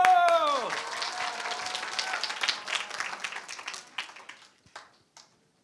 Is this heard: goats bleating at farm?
no